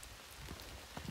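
Rain falls outdoors along the Appalachian Trail near High Point State Park, a soft, even patter of drops on surfaces, faint and steady with no voices.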